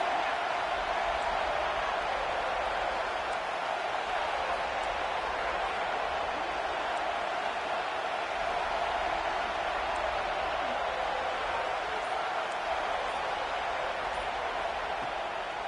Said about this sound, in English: They're bringing the chop. They're bringing the noise on third down